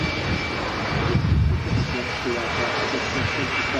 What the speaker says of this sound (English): Beautiful Air France A220, touching down for Paris Charles de Gaulle.